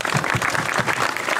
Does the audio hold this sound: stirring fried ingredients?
no